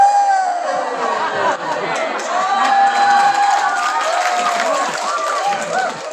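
A crowd at a humorous Sundanese Islamic sermon cheers, laughs and chatters loudly, with some scattered clapping mixed into the lively noise of many voices.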